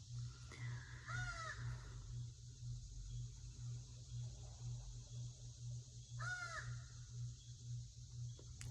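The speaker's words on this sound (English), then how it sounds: "Crow up there. All right, we hear you." A crow caws from up overhead in two separate bursts of several harsh calls, one near the start and one about six seconds in, moderately loud, over a steady low hum and faint ambient noise.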